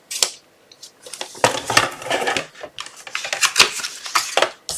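A paper trimmer slices cardstock for a handmade wedding card, giving a series of short, sharp scraping cuts at close range in an irregular rhythm, with no talking.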